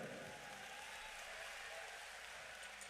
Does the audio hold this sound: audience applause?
yes